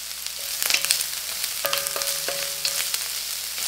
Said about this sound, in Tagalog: Ngayon, ay ilalagay ko na dito yung ating sibuyas.